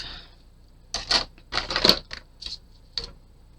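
Scissors snip through a length of leftover ribbon for a handmade gnome gift tag, giving a few short, close crisp cuts in a quick irregular cluster with brief pauses between them.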